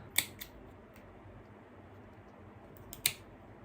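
Pruning scissors snip through houseplant stems being cut into cuttings for propagation, a few quiet sharp clicks spaced apart, close up over a faint background hum.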